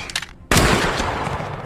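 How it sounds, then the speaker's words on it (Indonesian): A pistol duel in the John Wick film: after a short stretch of quieter sound, one sudden, loud, close gunshot bursts out and leaves a broad, rumbling wash of noise that lingers to the end. "kemudian mereka saling adu tembak secara bersamaan."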